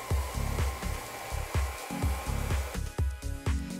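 Hair dryer blowing during a brush blowout styling session, its airflow pulsing in short repeated bursts with a steady hum, near and fairly loud, no talking.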